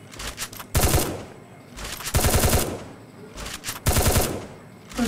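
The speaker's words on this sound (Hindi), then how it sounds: "ये कहां आसमान में फायर कर रहे हैं?" Three loud, close bursts of automatic gunfire from the video game Free Fire, each lasting about half a second, separated by short pauses with faint background noise.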